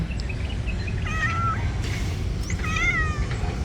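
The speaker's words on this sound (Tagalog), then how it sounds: "Ito yung pusa na to." A cat meows twice, a wavering cry and then a longer drawn-out one, over a steady low background rumble.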